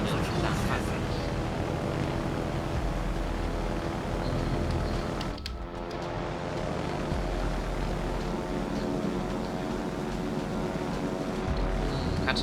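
Torpedo bomber aircraft engines from the carrier Kaga in World of Warships, a steady loud propeller drone filling the whole stretch with a brief dip midway, mixed with game effects.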